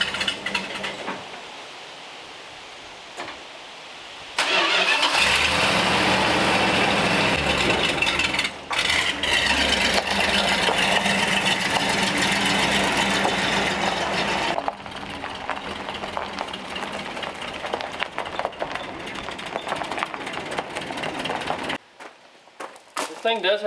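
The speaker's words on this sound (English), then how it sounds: "This thing does have a little hesitation right off idle" A van engine idles at a low rumble, then revs up into a steady louder drone for a long stretch before easing back down, with a slight hesitation just off idle.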